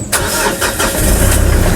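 The diesel engine of a 2023 Mitsubishi Strada pickup cranks and catches, then settles into a loud, close, rough idle.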